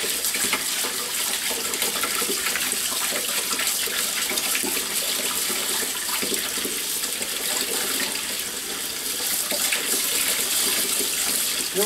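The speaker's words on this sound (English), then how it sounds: "Rinse them really good." Tomato seeds are rinsed under a running kitchen tap, a steady, close splashing stream of water that runs unbroken throughout with no talking.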